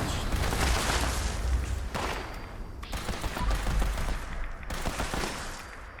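Rapid bursts of weapon fire from a V63 Laser Carbine in the game Fallout 76, near and loud, with repeated shots in clusters and short gaps between volleys.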